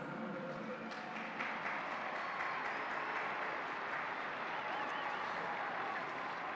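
A large crowd in St Peter's Square applauds for the children at Pope Francis's blessing of the bambinelli, a continuous, distant wash of clapping that stays faint and even throughout.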